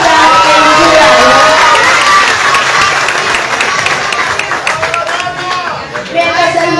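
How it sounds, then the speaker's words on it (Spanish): Loud applause and cheering from the crowd at a beauty pageant casting and election, with dense clapping, shouts and whoops, and some children's voices rising above the clapping near the end. "el público le brindamos un fuerte aplauso"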